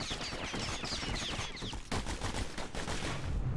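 The Kid's guns in the video game Bastion fire in rapid, continuous bursts: dense, loud rattling gunfire that is steady and close throughout.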